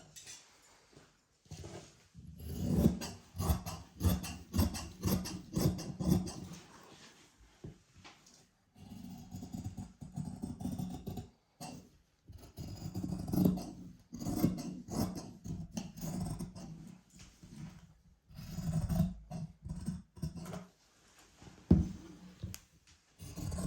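Scissors cut through saree blouse fabric and lining in repeated bursts of crisp rasping snips, separated by short pauses, close and fairly quiet.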